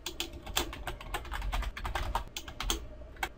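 Rapid keystrokes on a computer keyboard entering text into a form field, irregular clicks in quick bursts with brief pauses, close and fairly soft, no voices.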